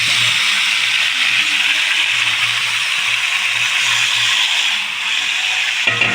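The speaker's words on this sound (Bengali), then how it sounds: "আমি দেবো এটা ভেজে রাখা কুমড়ো আর আলু।" Fried pumpkin and potato go into a pan of sizzling spice masala, giving a steady bright hiss and crackle of frying up close, easing slightly near the end.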